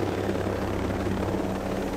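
A helicopter drones in a video game, a steady close rotor thrum with continuous low chopping, loud and constant with no talk over it.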